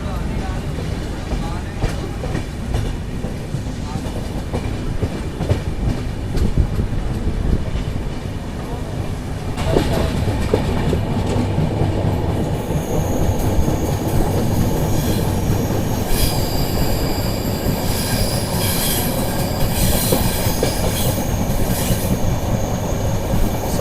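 Loud, continuous noise of the Visakha Express leaving Secunderabad: wheels clatter and squeal on the tracks as the carriages roll steadily through a curve, growing harsher partway through.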